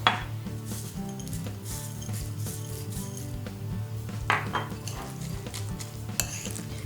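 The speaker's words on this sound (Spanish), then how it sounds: "Removemos para que se impregne todo bien." Seeds stirred in a bowl for crackers: a steady grainy rustle and scraping, with occasional clinks of the spoon against the bowl, close and continuous.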